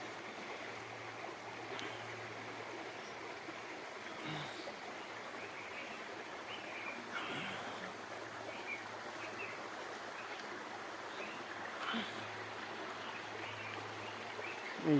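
River water flows in a steady, even wash under a hot midday sun, close by and continuous, with faint splashes and no voices.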